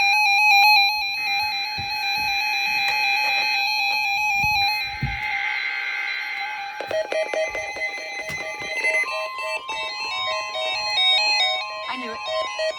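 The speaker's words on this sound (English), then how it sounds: "Take a weekly test of the NOAA radio warning alarm device and the emergency alert system" NOAA weather radio emergency alert system weekly test: steady electronic alert tones ring out, starting with a long two-tone warning and shifting into rapid chirping data bursts, with brief talk in the background early on.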